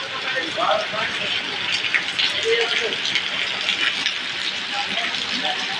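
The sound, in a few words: heavy rain falling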